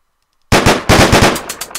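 Gunfire in the video game Deadbolt: after a short quiet lead-in, a loud, close flurry of rapid shots pops in quick succession, then tapers into a few spaced final bangs.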